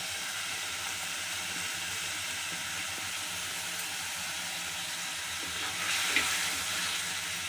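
Raw prawns fry in oil in a pan, giving off a constant, dense hiss of sizzling that swells slightly toward the end.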